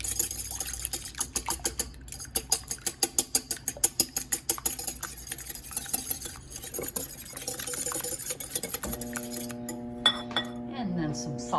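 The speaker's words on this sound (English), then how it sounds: "And this egg needs to be beat." An egg beaten in a bowl with a utensil, rapid rhythmic clinking strokes against the side for several seconds, close and steady, ending with a few scattered taps and a brief musical tone.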